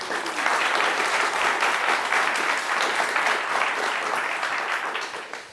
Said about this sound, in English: give you a massive round of applause